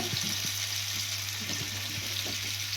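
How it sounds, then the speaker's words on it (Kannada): Country chicken frying in hot ghee for a North Karnataka-style gravy, a steady soft sizzle with a low hum and faint scraping taps, no voices. "ಇದನ್ನ ಫ್ರೈ ಮಾಡ್ತಿ"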